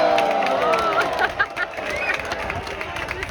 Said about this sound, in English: This is just a crowd.